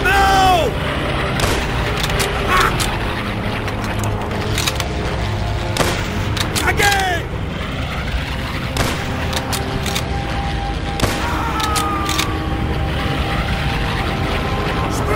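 Rifle shots and explosive booms in the World War II shooter game Call of Duty: World at War, several sharp cracks spaced irregularly over a droning background, with a voice speaking in between.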